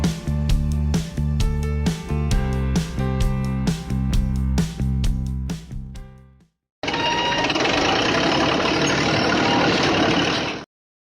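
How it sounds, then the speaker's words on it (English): A concrete mixer truck runs with a steady, loud broadband engine roar lasting a few seconds, after a stretch of rhythmic music that ends in a short silence. "A mixer truck is a specialized vehicle used for transporting and mixing concrete."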